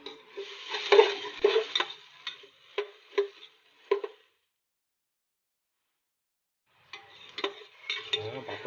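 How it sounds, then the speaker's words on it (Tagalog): Garlic, onion and ginger sautéed in a pan are stirred with a utensil, giving quiet scraping knocks and clinks over a faint sizzle, pausing for a few seconds of silence before the stirring resumes. "patuloy lang po tayo na haluin natin binigitang bawang, sibuyas at luya"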